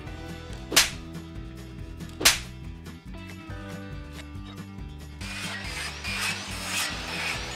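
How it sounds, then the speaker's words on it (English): A 4x4 wooden deck post is cut through with a circular saw and a handsaw, giving steady rhythmic rasping strokes with two sharp snaps early on and louder, brighter scraping near the end. "I use a circular saw to cut as deep as I can. Then I use a handsaw to finish cutting them off."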